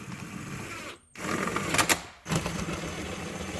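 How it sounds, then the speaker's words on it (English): An impact driver runs bolts up slowly during a tune-up on a 2002 Honda CR-V, making a close, steady mechanical whirring. The whirring breaks into two short runs with brief silent gaps between them. "use your impact driver to run them up"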